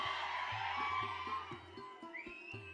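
An audience at a mimicry comedy show during the Taralabalu Hunnime festival claps and cheers. The crowd noise is mixed with whistles, whoops and tonal sounds from the stage.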